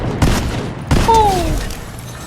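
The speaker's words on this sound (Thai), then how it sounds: "เสียงปืนโคตรดีครับคุณผู้ชม" Two sharp gunshots ring out in Fortnite, each followed by a short echoing tail and a thin whistling ricochet.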